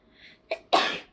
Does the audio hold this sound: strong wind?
no